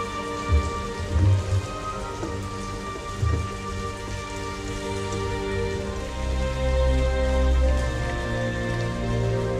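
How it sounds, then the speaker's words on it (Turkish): Heavy rain falls in a continuous loud patter, joined by deep rumbles of thunder that roll through at the start and swell toward the end. "Yağmur sanki hiç dinmeyecekmiş gibi yağıyordu."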